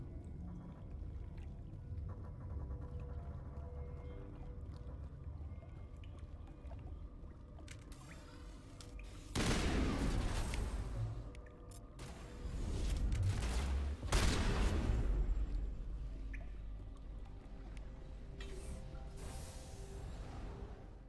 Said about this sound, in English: Pistol can pump all these Rachni.